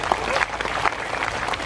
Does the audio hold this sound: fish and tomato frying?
no